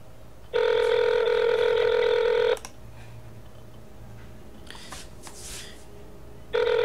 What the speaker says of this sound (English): Okay, so the phone's calling right now.